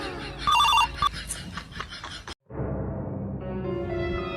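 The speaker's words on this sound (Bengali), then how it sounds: "ফোন বাজে ফোনে, ও আমারই তো ফোন।" A mobile phone rings loudly with a repeating electronic ringtone, cut off briefly then continuing as a sustained tonal melody, close to the listener in a comic domestic scene.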